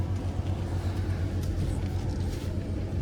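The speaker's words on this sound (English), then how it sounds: "this truck drives just as good as that Lightning" A 2005 Ford F150 XLT pickup truck drives along, heard from inside the cab as a steady low engine and road rumble with no talking.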